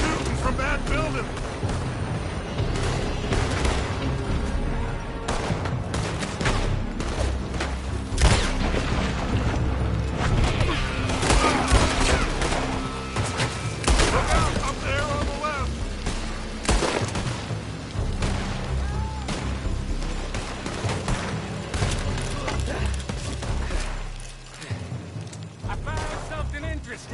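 Sustained gunfire from Red Dead Redemption 2 as enemies shoot from a building, dense and loud throughout with booming shots and clatter, mixed with voices and ongoing game sounds.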